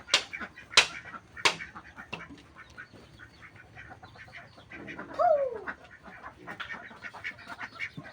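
Domestic ducks at their shed give a few quacks among sharp snapping clicks and faint background chatter, with one clearer call midway, all fairly quiet and close.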